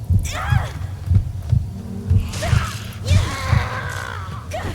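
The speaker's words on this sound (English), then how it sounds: "Your health is monitored by your heartbeat, which you can hear when you have sustained too much damage." Heartbeat in a FromSoftware survival-horror game warning of low health: a steady, loud low thump-thump pulse repeating about once a second, with other game sounds and faint noises layered above.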